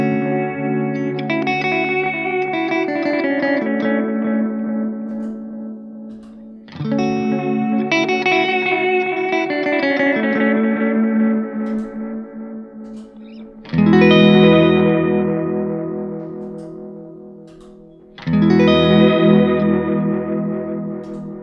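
Electric guitar through a Strymon Timeline set to the dBucket analog delay, mimicking a Brigadier: strummed chords and picked phrases in four loud passages, each trailing warm, smeared repeats that fade between strums.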